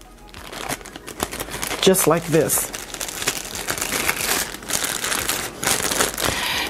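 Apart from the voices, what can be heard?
avocado seed wrapped in moist towel put in plastic bag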